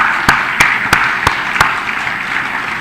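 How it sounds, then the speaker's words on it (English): Applause from an audience at a military literature festival at Sukhna Lake, Chandigarh, with a few sharp claps standing out over a steady wash of clapping. "So a very round of applause to the fantastic people of Punjab"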